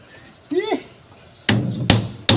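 Three loud, sharp hammer blows drive nails at a construction site where a concrete slab is being worked on, ringing close by after a brief voice.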